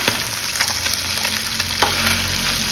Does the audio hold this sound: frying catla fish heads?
yes